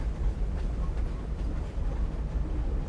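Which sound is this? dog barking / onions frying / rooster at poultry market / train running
train running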